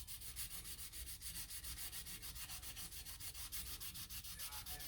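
Fine automotive sandpaper rubs over painted plastic on a Revell 1985 Oldsmobile 442 model car body, making quick, even back-and-forth strokes in a steady close rhythm with no talk.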